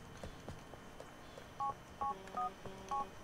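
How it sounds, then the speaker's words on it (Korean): Phone dialing in GTA 4: a short series of about five DTMF key tones, evenly spaced and clear over a faint background of game noise and soft thumps. "제가 제일 먼저 전화했어요, 닛산님"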